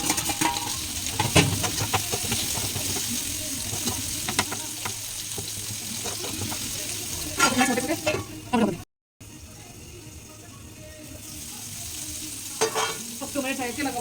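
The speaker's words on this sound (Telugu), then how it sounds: "2 minutes అయితే ఇలాగ బాయిల్ అవుతాయి టమాటో" Tomatoes bubble and sizzle in a pan while egg curry cooks, a steady close hiss with occasional clinks of stirring and a brief cut partway through.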